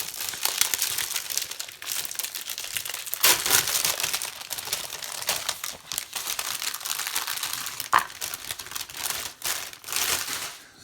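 Plastic wrapping crumpled and torn off a Warhammer Stormbringer magazine issue, close and crisp, a steady run of crinkling with sharper crackles and rustles throughout.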